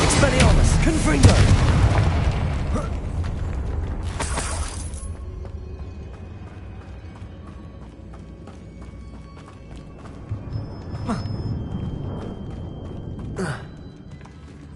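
Spell blasts from the Hogwarts Legacy video game: a loud booming burst at the start, another blast around four seconds, then quieter sharp hits and a final crack near the end over game ambience.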